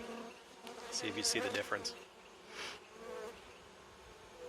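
Bees buzz in a steady drone, with a brief burst of close, louder buzzing as a voice speaks over them.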